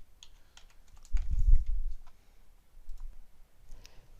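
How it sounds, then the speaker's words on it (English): Clicks of a computer mouse and taps of keyboard typing come close and quiet, a few scattered clicks followed by a short burst of keystrokes. "Click the swim lane header and then click it again, and then type the desired swim lane."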